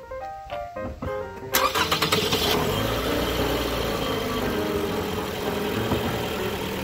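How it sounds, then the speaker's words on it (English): A car engine cranks with clicks, catches and settles into a steady idle while the brake pedal is pumped after a brake change, loud and close with no talk. "Start the car"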